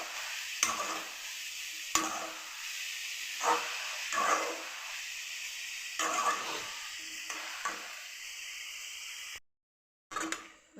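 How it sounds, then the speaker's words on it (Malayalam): Chopped taro stems are stirred and mixed in a hot pan, with soft sizzling under repeated sharp scraping strokes of a spoon, close and steady, ending in a brief cut-off. "അതൊന്ന് ഇളക്കി മിക്സ് ചെയ്യാം."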